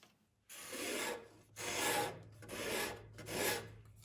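A wood-turning scraper cuts roughly against the grain of a flared thumbnail profile, four harsh raspy scraping passes in rhythmic bursts with brief quiet gaps, close and gritty over a low lathe hum.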